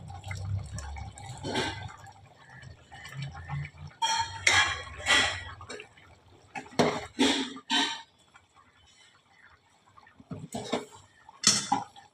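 Raisins tipped into a cooking pot of sweetened muri ghonto and stirred, with bursts of metal spoon clatter and scraping against the pot separated by quieter pauses.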